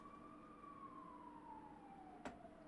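An ambulance siren passing outside, a steady, slowly falling wail heard continuously throughout, fairly faint and distant, with one brief sharp knock near the end.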